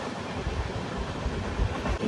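Kacheguda Weekly Express running at speed on double track, a dense, steady rolling roar with faint rhythmic wheel thumps, heard from on board at moderate loudness without talk.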